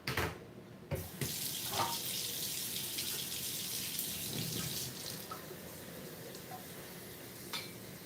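Tap water running into a kettle or pot for brewing tea, a steady close rush with a few clunks and splashes of handling, no talk.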